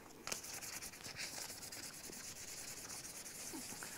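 Hand sanding of a small part from a vintage motorcycle restoration, a steady close scratchy rubbing of abrasive paper that continues evenly throughout, quiet and without talking.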